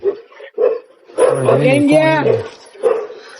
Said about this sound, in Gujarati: ભાઈ તમારું કૂતરું